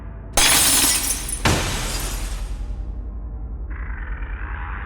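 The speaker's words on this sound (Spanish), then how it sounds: "Se oyó como si todos los platos y vasos se cayeran al suelo y se estrellaran al mismo tiempo" Dishes and glasses crash and shatter on a floor in two loud, bright bursts in quick succession, followed by a lingering low rumble and a faint higher tone.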